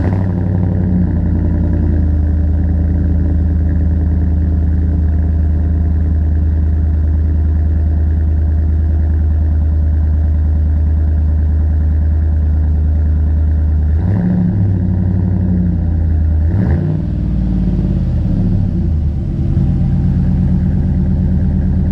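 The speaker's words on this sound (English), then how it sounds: "Now that I've shown you everything on the truck, I'll do a startup for you and I'll let you hear it yourself." Pickup truck fitted with aftermarket performance exhaust, engine running with a deep, loud, steady idle rumble close to the mic, with a brief dip and change in tone partway through.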